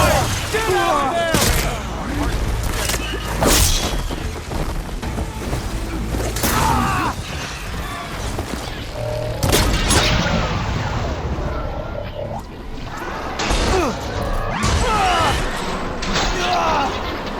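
Explosive booms and bursts of gunfire ring out in a Horizon Forbidden West battle, with repeated heavy impacts and crashes over steady game noise and shouted voices throughout.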